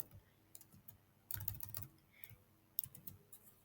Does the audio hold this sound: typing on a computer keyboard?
yes